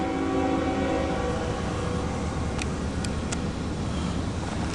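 CSX Q217 freight hauling empty autorack cars rolls past at a distance, a steady low rumble of wheels with a few faint sharp squeals or clanks near the end.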